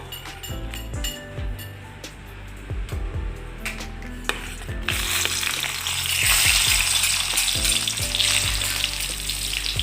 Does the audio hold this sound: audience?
no